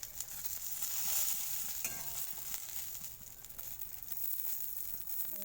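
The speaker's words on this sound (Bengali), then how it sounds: "সুন্দর ভাজা হয়ে যাচ্ছে।" Singi fish frying in a pan of oil gives a constant crackling sizzle at close range, with a few louder pops and stirring sounds and no voices.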